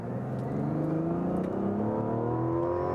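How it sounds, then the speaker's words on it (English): A 2024 Mazda CX-90 SUV's turbocharged inline-six accelerates hard in sport mode along a short straightaway, a steady rising engine drone climbing in pitch through the revs, heard from inside the cabin with no talking. "I'm just gonna accelerate here on this little straightaway."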